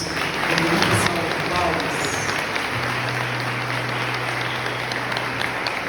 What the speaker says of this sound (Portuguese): Vamos aplaudir estes nossos irmãos.